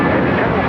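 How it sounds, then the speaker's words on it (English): An American Airlines Boeing 777-300ER touches down on the south side of LAX, giving a loud, steady broadband jet roar with no break. "We have an American Airlines 777-300ER touching down here on the south side"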